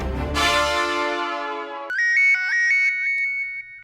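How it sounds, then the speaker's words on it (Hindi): A phone ringtone plays loud and clear: a bright descending synth sweep, then a repeating electronic beeping melody that stops abruptly, with no voices over it. "अरे जेठालाल का फोन।"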